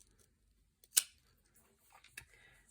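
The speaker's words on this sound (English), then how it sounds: "this is where you cut the yarn anyway" Scissors snip through crochet yarn in one sharp, close cut, followed by a few faint clicks and handling sounds in an otherwise quiet room.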